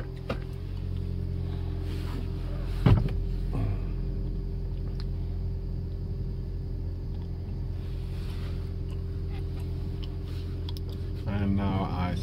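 A 2016 Toyota Yaris Hybrid's engine runs in a steady, low idle hum from inside the car, with a brief click near the start and a slight rise in noise toward the end.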